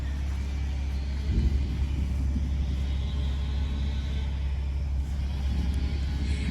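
A 2019 Ram 4WD pickup with a six-cylinder engine and 61K miles, idling just after starting: a deep, steady rumble heard up close, with a slight surge in intensity early on.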